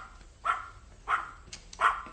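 A dog barks three times at a steady pace, each bark sharp and moderately close over a low background hum.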